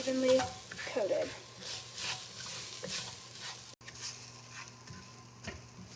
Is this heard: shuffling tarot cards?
no